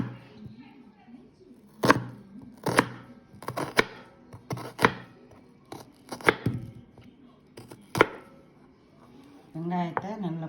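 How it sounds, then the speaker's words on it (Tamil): A knife strikes a cutting board in sharp, irregular chops as an onion is cut finely for prawn vadai, about a dozen distinct hits with a voice speaking between them. "வெங்காயத்தை நல்லா பொடியாக நறுக்கிக்கணும்."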